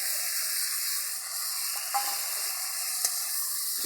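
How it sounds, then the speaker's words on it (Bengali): Whole cardamom pods, cinnamon sticks and cloves sizzle steadily in hot oil in a pan for a muri ghonto, a continuous broad hiss with a couple of faint stirring clicks and no talking. "এলাচি, দারচিনি ছেড়ে দিলাম।"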